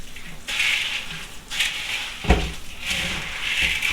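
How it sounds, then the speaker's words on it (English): Feed corn washed in a colander in a sink: bursts of running water and rattling kernels come in three surges, with a sharp knock partway through, close and moderately loud. "I've got my handy dandy colander right here in the sink. We're going to wash it."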